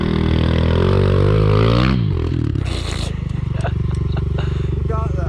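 Pit bike engine revving hard in first gear at a construction site, a loud buzzing drone that climbs in pitch, drops sharply after about two seconds, then settles into a rougher idle with light clatter.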